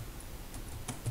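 A computer keyboard gives a few faint, sparse keystroke clicks over about a second, very quiet against a steady background hiss, with no speech.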